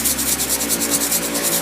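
A brush scrubs a Vans Old Skool shoe clean in steady, rapid back-and-forth strokes, a close, continuous rough rubbing with an even rhythm.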